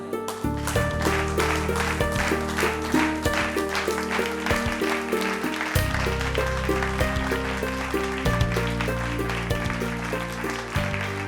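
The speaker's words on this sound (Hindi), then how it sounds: "इनके लिए फिर से जोरदार तालियां।" A TV show audience breaks into applause, with steady clapping running throughout over loud, sustained background music.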